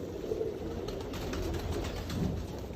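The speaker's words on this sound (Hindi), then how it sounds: "ये जी कमगर कबूतर है," A Kamgar pigeon coos softly in low, repeated throaty notes against a steady background hum.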